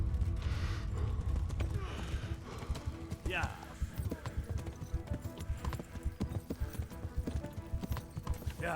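Horse hooves pound in a quick, rhythmic gallop in the video game Kingdom Come: Deliverance, with occasional creaks and a brief neigh amid the steady clip-clop.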